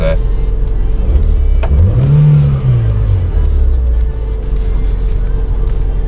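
A car engine revving after its carburetor butterfly was cleaned, a loud steady idle with one rev that rises and falls in pitch midway, then settles back to a holding drone.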